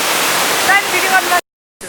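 A waterfall in Nepal roars loudly and steadily up close as a dense rush of falling water, broken by a sudden brief silence before the roar returns.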